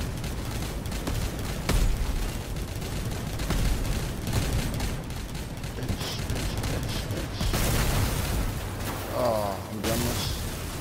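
Video game gunfire aimed at a hovering vehicle, a steady stream of rapid shots and mechanical clatter. Occasional louder bursts punch through a busy, continuous battle din.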